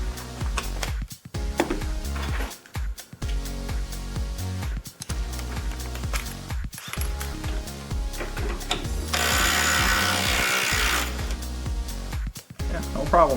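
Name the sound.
Ryobi impact wrench running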